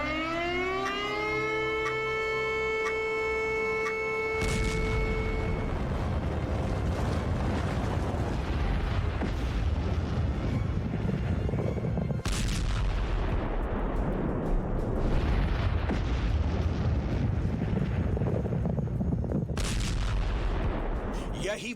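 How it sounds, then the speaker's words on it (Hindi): A wailing civil-defense siren with steady rising tones opens, then gives way to a loud, continuous roar and rumble of a nuclear bomb explosion, with heavy blasts swelling repeatedly through the sustained din. "धरती पर परमाणु बम के विस्फोट के बाद क्या होगा"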